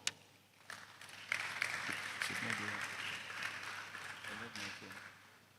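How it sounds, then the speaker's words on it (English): Audience applause at a film and TV investment summit as a female executive walks up, a steady moderate clatter of many hands lasting several seconds, with a voice speaking over it. "A round of applause as she comes up"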